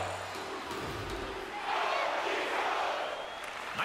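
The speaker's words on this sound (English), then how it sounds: "Crowd's buzzing, ready to get things back underway," Crowd in an NHL 23 hockey game at a Stanley Cup Finals game seven against the Detroit Red Wings buzzes steadily, a broad arena murmur that swells slightly midway and stays continuous throughout.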